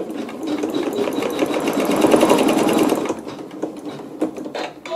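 Sewing machine stitching a quilt seam at a match point, a steady fast mechanical hum with rapid needle clatter running loud and close, then easing off near the end.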